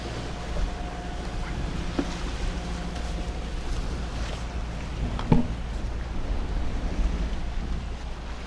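Sailboat Navicula cruising under sail in the Exuma Bahamas, a steady wash of water and wind noise rushing past the hull, with one brief louder bump midway and no talk.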